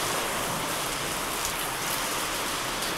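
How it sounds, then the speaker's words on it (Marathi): Heavy rain falls steadily on a road during a bus trip between Nanded and Latur, a dense, constant hiss with no voices and no breaks. "पाऊस पाऊस."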